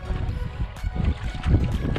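A kayak is paddled on water at sunset, giving low rumbling splashes and sloshing with some wind noise on the microphone, close and uneven over about two seconds.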